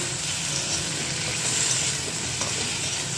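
Potatoes frying and being stirred in a pan with salt, turmeric and a little sugar, a steady close sizzle with scraping stirring strokes throughout and no talking.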